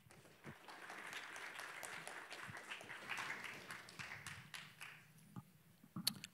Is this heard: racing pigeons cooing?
no